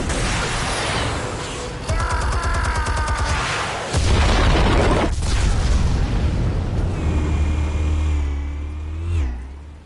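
Explosives detonate in the Batman Telltale Series game, with heavy booms around the two- and four-second marks rolling into a sustained loud rumble and roar that fades near the end.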